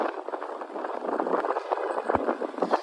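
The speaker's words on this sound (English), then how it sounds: "I think we may have to head deeper into the city because it is extremely windy." Strong wind in New York City buffets the microphone, a dense, gusty roar with rapid fluttering bursts filling the whole short stretch, fairly close and without speech.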